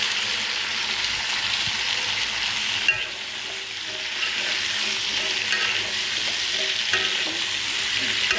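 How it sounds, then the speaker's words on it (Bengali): Eggplant and potato frying in a pan without spices, a steady close sizzle with occasional stirring clatter throughout, no voices. "বেগুন আলুটা ভেজে নেবো কড়া করে, হালকা লাল লাল করে"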